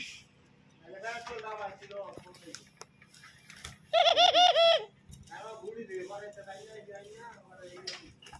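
Pigeons coo at home in one brief, clear burst of rounded, repeated coos close by, set among stretches of someone speaking.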